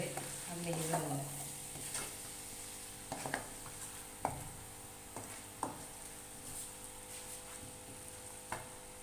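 Mixed vegetables fry in ghee with a soft steady sizzle, broken by occasional scrapes and taps of a spoon stirring the pan, close and fairly quiet with no talking.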